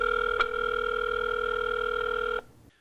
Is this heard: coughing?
no